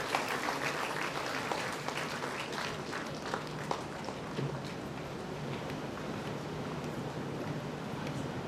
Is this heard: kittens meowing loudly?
no